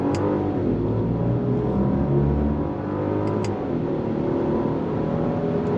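A 2025 Genesis GV80 SUV accelerates hard through its 8-speed automatic with paddle shifts, the engine drone rising steadily and stepping down at a gear change midway, loud and continuous inside the cabin.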